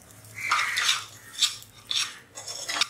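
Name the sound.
wheat rava poured into ghee and roasted in a pan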